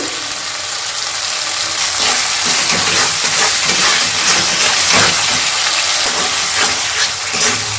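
Spice masala is being sautéed in a pan for an aloo kochuri potato filling, a loud, dense, steady sizzle and hiss with rhythmic stirring scrapes running close throughout.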